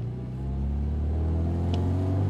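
Lada car engine roaring at a steady high rev during a burnout, a loud sustained low drone with strong harmonics, close by and without speech.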